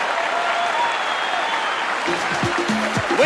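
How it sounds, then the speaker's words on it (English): A baseball stadium crowd at 1979 NLCS Game 1 between Pittsburgh and Cincinnati roars steadily after a half-inning ends. The crowd noise is broad and distant, and a voice comes in over it toward the end. "Listen to the crowd."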